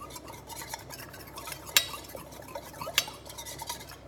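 A utensil stirs cornstarch and lemon juice in a small bowl for Greek avgolemono soup, a soft, close scraping with two sharp clinks against the dish along the way.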